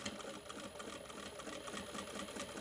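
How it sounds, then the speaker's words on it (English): A sewing machine back-stitches a crossbody bag seam at a 3 mm stitch length, giving a steady, rapid mechanical whir that runs unbroken and close throughout, with no talking. "I'm going to go a 3 mil stitch length and I'm going to back stitch really well"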